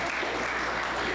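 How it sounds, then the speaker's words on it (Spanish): Audience applause for Adriana at a church sermon, a short steady wash of clapping from a crowd, fairly distant and even throughout. "Un aplauso, Adriana, por favor."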